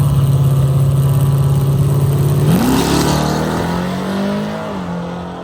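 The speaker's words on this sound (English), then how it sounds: "Unfortunately, I accidentally red lit, and Billy's truck hardly left the starting line" A Chevy Malibu and a GM truck launch off the line at a drag race, one engine holding a steady loud drone before revving up sharply around midway, pitch rising then easing as the cars pull away.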